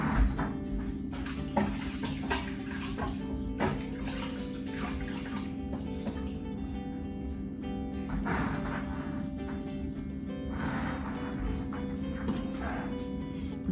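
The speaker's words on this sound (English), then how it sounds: "excuse me while I wash my hands" Hands being washed under a running kitchen tap, with a steady stream of water and intermittent splashing and rubbing, close and continuous.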